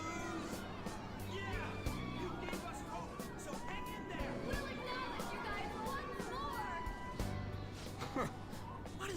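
A large crowd of human voices cheering and clamoring in Persona 5 Royal, forming a dense, continuous babble of overlapping calls that stays at an even level throughout.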